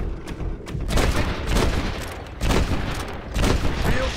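Bursts of machine gun fire in Red Dead Redemption, several loud rattling volleys in quick succession with brief gaps between, close and dominant, with a voice faintly beneath.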